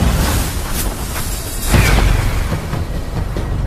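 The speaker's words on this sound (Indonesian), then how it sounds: "dua tetua agung terlempar oleh ledakan lautan spiritual dari Senior Lin" An explosion from a spiritual sea in a Spirit Sword donghua battle: a dense, loud, roaring blast with a swelling boom partway through, continuous for a few seconds.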